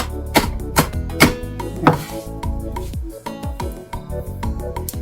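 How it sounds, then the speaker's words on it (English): Sharp knife chops on a board cutting vegetables for a pepper mix, a steady run of distinct strikes close up with resonant ringing between them. "Chop it up with it, okay?"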